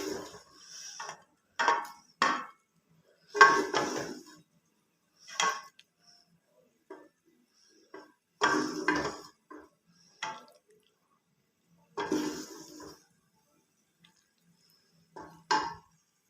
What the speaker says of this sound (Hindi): अब मैं इनको डिश आउट करती हूँ।